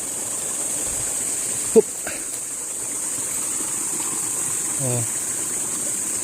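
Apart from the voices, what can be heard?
waterfall and stream water at Balete Eco-Park falls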